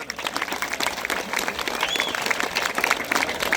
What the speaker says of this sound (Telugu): మీరిద్దరు శివాజీకి చప్పట్లు కొట్టరా?